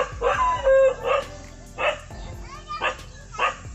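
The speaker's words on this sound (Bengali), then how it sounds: "কুকুরটা ঘেউ ঘেউ করতেছে।" A village dog barks about five times in short, loud, close bursts spaced unevenly over a few seconds, with quiet gaps between barks.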